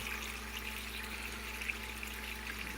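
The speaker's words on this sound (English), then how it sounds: "you can see it's the nutrient starting to drain back" Nutrient solution draining back to the reservoir in a tabletop ebb and flow hydroponics kit, a faint, steady trickle and gurgle of water over a constant low pump hum.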